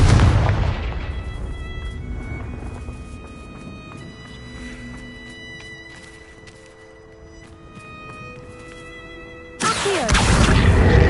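Confringo spell explosions in Hogwarts Legacy, a loud booming blast at the start that decays into a long ringing tail, then another sudden heavy burst near the end.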